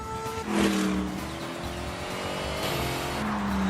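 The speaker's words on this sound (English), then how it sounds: "it's a meaty engine with lots of low down grunt" Car engine from The Grand Tour Game set to Sport Plus mode, a meaty motor with strong low-end grunt, droning steadily with rising and falling revs and a brief tyre squeal, with no talking.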